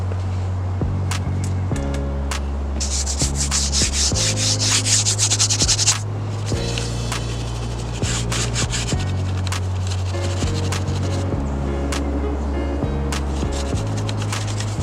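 Stiff Scrub Ninja sponge rubbing over the surfaces of a very dirty car interior, a steady, close scrubbing and rasping that runs the whole stretch, surging in bursts over a low continuous hum, with no talking.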